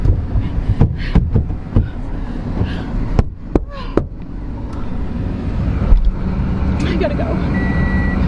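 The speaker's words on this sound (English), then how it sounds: "right now I'm driving around in parking lots searching for Daddy" A car rolls slowly through parking lots, its engine a steady low rumble with a few sharp knocks and faint beeps, while people talk briefly inside the vehicle.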